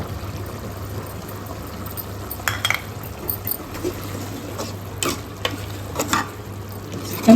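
Chicken masala is stirred into Madurai-style country chicken gravy as it fries, with a constant low bubbling sizzle broken by scraping stirs and spoon knocks against the pot; no voices.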